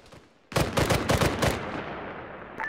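Gunfire in a military shooter video game, a tight burst of about five or six loud, close automatic shots followed by a short fading echo and quiet.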